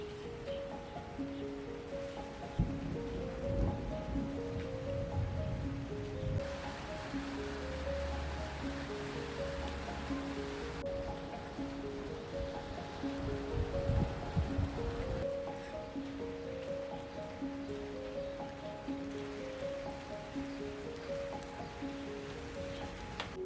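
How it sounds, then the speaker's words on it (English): Summer rain falls as a steady, soft hiss of drops that continues throughout, mixed with a gentle melodic tune. "And then, in the middle of summer, it starts to rain."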